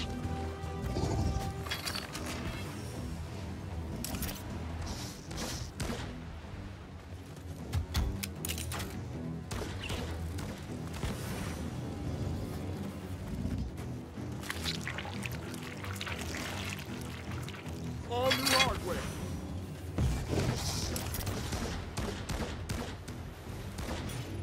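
A deployed turret in the sci-fi shooter Firefall fires in rapid bursts of sharp, clattering shots during open-world PvE play, dense and continuous with a few louder impacts amid game effects.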